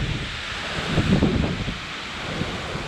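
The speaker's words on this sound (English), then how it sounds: "it is freaking windy." Strong wind from Hurricane Isaias roars steadily into the microphone, a loud broadband rumble that surges slightly in the middle, with no voices.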